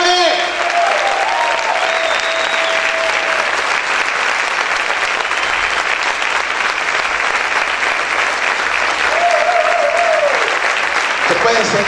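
Loud, sustained applause fills a church hall, dense clapping carrying on for several seconds while raised voices call out over it at the start and near the end.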